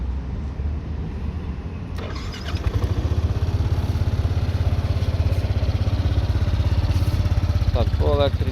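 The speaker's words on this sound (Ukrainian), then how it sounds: "Ось така гарна робота двигуна." A Yamaha Nmax 125 scooter engine idles steadily up close, its putter growing louder after a couple of seconds, with brief clicks and a faint voice at moments.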